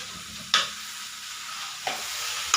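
Chopped raw mango sautés in a pan with a steady sizzle, broken by three sharp spatula scrapes and stirs spaced about a second apart, close and clear with no voices.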